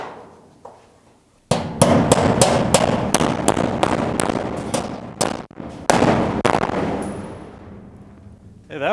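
Old bolts being hammered out of a car floor pan during a GTO restomod, a rapid run of loud, sharp metallic blows in a steady rhythm, briefly pausing before another burst, close and echoing in a workshop.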